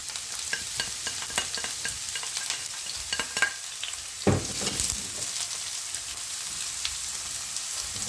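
Finely chopped red onion frying in a pan, a steady close sizzle broken by scraping stirs throughout, with a louder burst of crackle midway.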